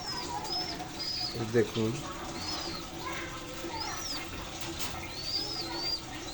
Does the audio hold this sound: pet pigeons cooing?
yes